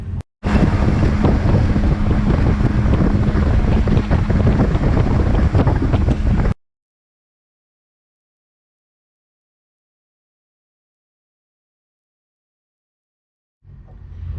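A boat equipped with thrust vector wake devices cruises across open water, pushing out a wake: a loud, steady roar of engine, rushing water and wind buffeting for about six seconds, then near silence before the rumble faintly returns.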